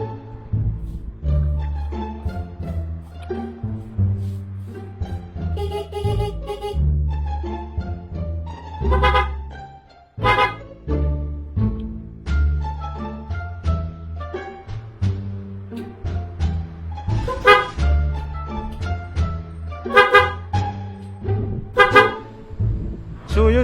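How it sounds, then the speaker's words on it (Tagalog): Two car horns, one mounted low, are sounded repeatedly after rewiring around a faulty switch, giving loud close honks in short and longer blasts across about twenty seconds. "Dito ko pala nilagay yung 2 busina natin mga kops."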